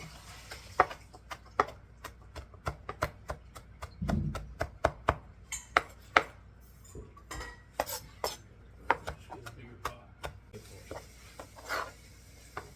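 Food is chopped on a board for German potato salad, with irregular sharp knife taps that are close and fairly quiet, plus a soft low thump midway.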